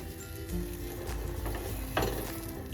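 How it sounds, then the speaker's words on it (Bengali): Gravy being stirred together with water for a Bengali tel koi fish curry: a steady scraping, bubbling churn with a brighter clink partway through, moderately close and with no talk. "এবার গ্রেভিটা মিশিয়ে দেবো জলের সাথে"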